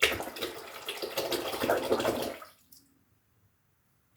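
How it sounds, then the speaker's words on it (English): Warm water splashes and swishes in a sink as a twin-edge safety razor is rinsed vigorously, loud and close for about two and a half seconds before stopping into near silence. "I just have to be a little bit more vigorous with the cleaning here in my warm water in the sink"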